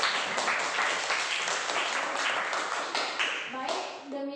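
Students in a classroom clap for a classmate, a busy burst of applause that thins toward the end as a voice starts talking over the last claps.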